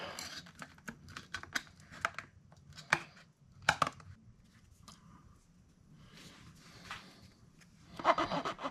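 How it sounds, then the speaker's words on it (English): Big scissors snip through material in a string of sharp, clipped cuts, loud and close, with short pauses between bursts and a final flurry of snips at the end. "Just take the big scissors here."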